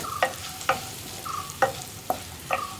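Egg kurma masala with onions gets stirred in a pan, five or six distinct scraping strokes spaced about half a second apart over a low sizzle, close and clear with no voices.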